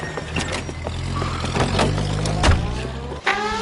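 Car engine in the L.A. Noire video game revving and pulling away, a loud close rising engine drone with a brief dip and renewed surge near the end.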